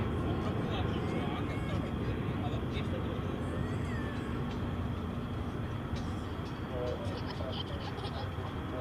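A Volaris airliner takes off at Dallas Fort Worth airport, a steady, loud broadband engine roar that holds throughout, heard from a distance with people talking over it.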